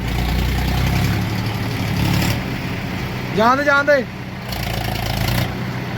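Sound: tractor engine running in a field

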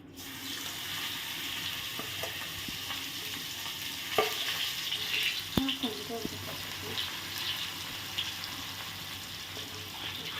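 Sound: broccoli frying in hot oil

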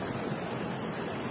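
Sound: rushing flood water at a bridge during storm Agaton

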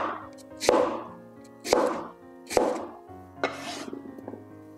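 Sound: cutting potatoes with a crinkle-cut knife

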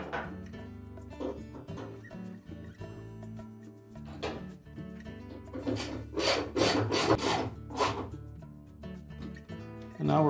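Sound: reinstalling the washplate bolt in a Whirlpool washer

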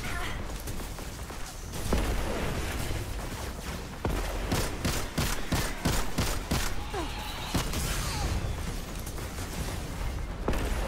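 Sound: enemy gunfire shots in a video game (Destiny Nightfall)

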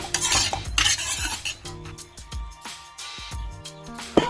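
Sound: stirring egg into semiya upma in a pan

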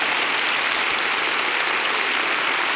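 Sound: audience applauding

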